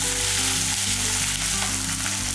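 Dried chillies, green chillies, shallots and garlic frying in a pan, a loud continuous close sizzle with a constant hiss throughout and no voices.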